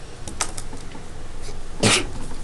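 A single sneeze in a classroom during a math lesson, a short sharp burst near the end after a few faint clicks and rustles, fairly close and with no talking over it.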